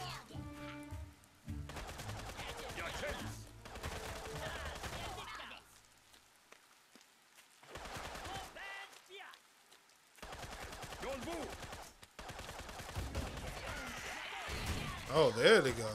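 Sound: gunfire in the video game Tooth and Tail

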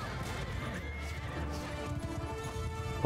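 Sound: horses neighing and galloping in Mount & Blade II: Bannerlord video game

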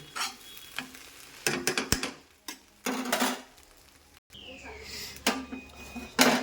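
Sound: bread frying in a pan while stirred

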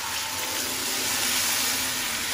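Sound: water poured into frying onions

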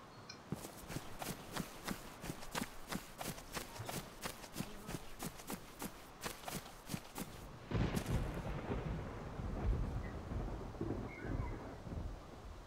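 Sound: thunder in a video game

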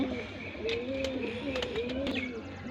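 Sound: pigeon cooing

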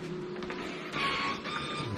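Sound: Epson ColorWorks C6500Au label printer printing BOPP stickers

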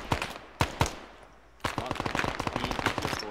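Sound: BTR-40 armored vehicle firing machine gun, video game Arma 3

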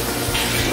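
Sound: water running from kitchen faucet while rinsing an egg

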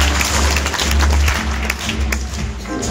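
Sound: audience applause

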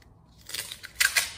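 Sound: masking tape being pulled and torn

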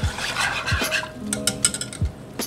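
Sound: whisking a roux sauce in a pot

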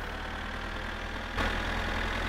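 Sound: combine harvester engine running in the video game My Summer Car

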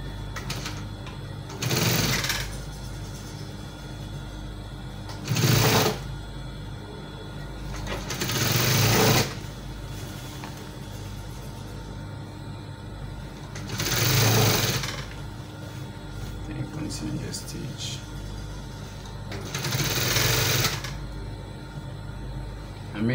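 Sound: sewing machine stitching a V neckline

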